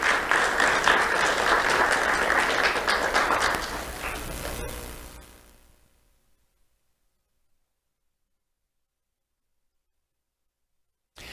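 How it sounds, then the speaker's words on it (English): An audience at an award ceremony applauds a seventh-grade recipient: steady, dense clapping for about four seconds that fades out into silence. "Let's have a round of applause for Marvin St."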